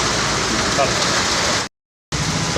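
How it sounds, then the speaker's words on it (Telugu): Heavy rain falling during statewide downpours in Andhra Pradesh, a dense steady hiss of rain on surfaces, loud and continuous, briefly cut to silence before resuming. "రాష్ట్ర వ్యాప్తంగా కూడా భారీ వర్షాలు కురుస్తూ ఉన్నాయి"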